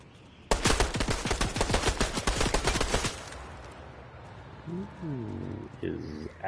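Rapid automatic gunfire rattles in a Fortnite match, a loud burst of closely spaced shots lasting a few seconds before cutting off, followed by quieter game sounds and a short voice.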